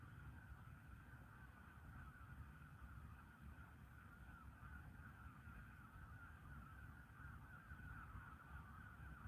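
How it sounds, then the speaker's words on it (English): Agitated birds, likely geese, honk and caw continuously at a distance outdoors by the water, a steady chorus under low background rumble with no speech. "Listen to them birds going mental."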